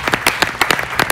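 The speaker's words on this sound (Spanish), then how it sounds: "¡Fuerte el aplauso!" Audience applause, a burst of clapping from a crowd, brisk and fairly loud throughout.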